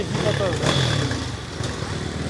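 A pit bike motorcycle arriving on an enduro track, its engine a moderate buzzing drone in the background, steady with slight rises, under someone talking nearby.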